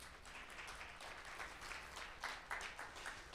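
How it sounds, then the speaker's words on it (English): Audience applause for volunteer AV professionals at a gathering at Bethlehem Lutheran on Lyndale Avenue South in Minneapolis. The sound is a faint, steady patter of clapping throughout, with a few slightly louder bursts near the end. "Start by getting all of them a round of applause quick to warm us up."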